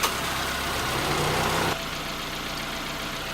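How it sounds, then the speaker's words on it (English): A car engine idles steadily during an alternator check with the accessories switched off, a close, continuous low rumble whose tone drops slightly partway through and then holds steady to the end. "I haven't turned off the engine as yet"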